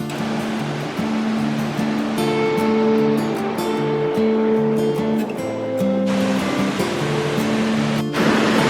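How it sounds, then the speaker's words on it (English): Waterfalls close to a car park in New England make a loud, steady broadband roar that fills the whole stretch, with a tonal melody running over it. "Those are some impressive waterfalls"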